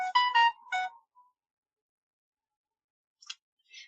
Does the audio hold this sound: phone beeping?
yes